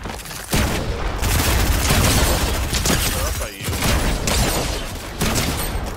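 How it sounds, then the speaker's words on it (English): Loud, dense gunfire in Fortnite rattles almost without pause, bursts overlapping into a continuous barrage with brief gaps, while players talk over it. "I'm getting shot at."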